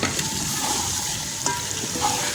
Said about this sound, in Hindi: अब फ्राइड चिकन भी ऐड कर देंगे और इसको भूनेंगे।